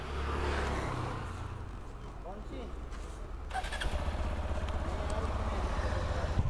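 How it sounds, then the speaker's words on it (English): Motorcycles idle while warming up on a mountain road in Kumaon, a steady low engine rumble running throughout that grows slightly louder near the end, with a voice briefly heard over it. "Warm up the bikes a bit."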